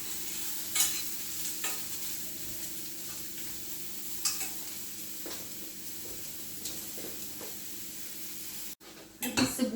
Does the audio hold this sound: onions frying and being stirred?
yes